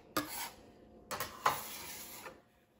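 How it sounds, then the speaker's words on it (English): Sourdough cinnamon raisin bread dough scooped from a bowl into a loaf pan with a bench scraper, giving a few soft scraping and sticky scooping sounds in short bursts, close and quiet. "And scoop that into the loaf pan."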